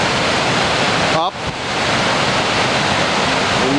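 The Boulder River near Big Timber, Montana rushes loudly in a steady broadband roar, with a brief voice cutting in over the constant flow partway through.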